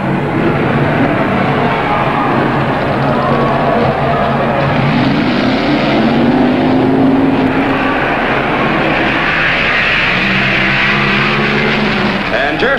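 1966 Plymouth drag race cars, a white '66 four-speed and an automatic '66, roar steadily at a national drag racing event, loud and continuous throughout with engines rising in pitch.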